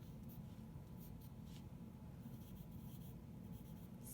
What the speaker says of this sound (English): I'm going to sketch out just how I think this might look